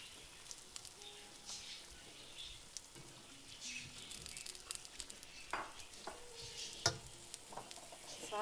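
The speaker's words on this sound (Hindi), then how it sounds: "जब टमाटर नरम हो जाए तो आपने इसमें दोबारा से चिकन डाल देना है और इसको मिक्स कर लें।" Chicken and soft tomatoes are stirred and mixed in a frying pan for chicken pasta, with a faint, continuous sizzle broken by scattered clinks and scrapes of the utensil against the pan.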